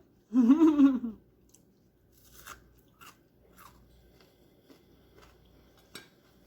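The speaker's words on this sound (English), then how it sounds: "Can y'all hear that crunching?" A loud, close crunchy bite of hot water cornbread at the start, followed by softer scattered chewing and crackling sounds over a quiet background.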